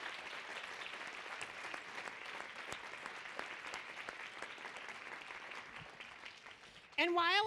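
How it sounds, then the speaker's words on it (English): Sustained applause from a health conference audience, a dense, steady wash of many hands clapping at moderate distance, fading slightly before a voice starts talking at the end. "So please help me in a round of applause for the CHI team."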